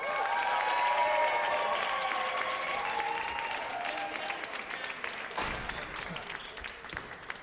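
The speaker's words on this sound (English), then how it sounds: "Big round of applause for Danielle Letourneau." Crowd applause at a squash tournament semi-final as a player is introduced, a full, dense clapping from the start that gradually thins into scattered claps, with faint voices underneath.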